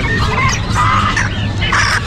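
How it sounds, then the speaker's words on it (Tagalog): Chickens at an outdoor pet market in Bocaue cluck and squawk in short bursts close by, over a low rumble of market background noise. "Maganda manok ni Dante."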